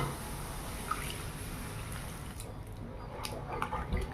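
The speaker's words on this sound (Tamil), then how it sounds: "மறுபடியும் மீதி இருக்கிற சக்கரை தண்ணியும் ஆட் பண்ணிக்கலாங்க" Sugar syrup pours steadily into a besan (gram flour) sweet mixture, giving a continuous soft trickling wash of liquid with faint clinks near the end.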